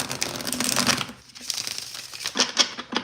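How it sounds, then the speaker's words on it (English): A deck of tarot cards shuffled by hand close up, quick papery riffles and flutters in bursts with a short pause in the middle. "I know I've been shuffling"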